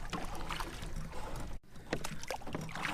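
A kayak paddle strokes through calm water, with repeated close splashes and drips in an irregular rhythm and a brief pause midway.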